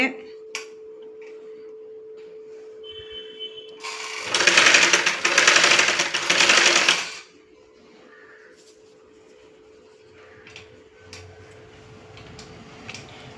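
Sewing machine stitching piping around a garment neckline, one loud continuous whirring burst of about three seconds amid quiet handling noises and a steady background hum.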